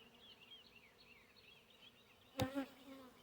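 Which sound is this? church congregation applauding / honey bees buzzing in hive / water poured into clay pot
honey bees buzzing in hive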